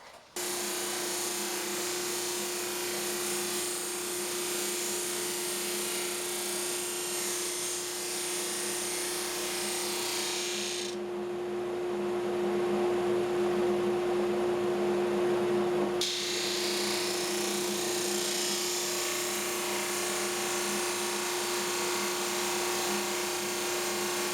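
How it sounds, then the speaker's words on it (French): A steady, droning drum sander whine with a constant pitched hum continues for a long stretch, sanding small boards of exotic wood, briefly muffled midway. "c'est là que la sableuse à tambour est bien pratique"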